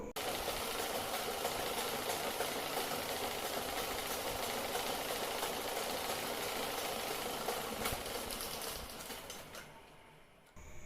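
A sewing machine stitching a yoke nightie, running as a steady rapid mechanical chatter close by for several seconds before slowing and stopping near the end.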